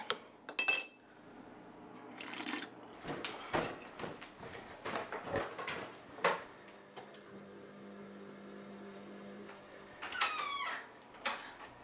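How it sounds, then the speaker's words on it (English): A spoon clinks and scrapes around the inside of a cup as coffee is stirred, a run of sharp, close metallic taps and rings, loud at first, then lighter clinks near the end over a low background hum. "Coffee, stirred."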